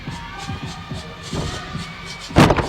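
A gymnastics meet crowd at an LSU at Florida competition cheers a routine, a broad roar of voices mixed with thumps and shuffles, swelling into a louder burst of cheering near the end.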